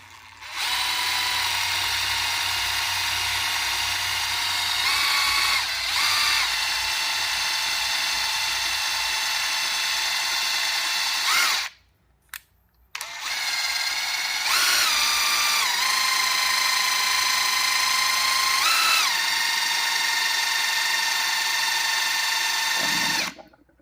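A Malibu Wakesetter SurfGate hydraulic cylinder on a 2016-or-later boat, run clockwise all the way out, gives a steady high-pitched electric whine. It holds for about twelve seconds, drops out briefly, then resumes with shifting pitch.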